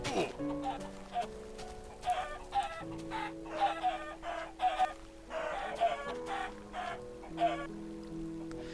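Chickens clucking and squawking in the Minecraft video game, a steady run of short calls over a droning background tone, with a person talking throughout.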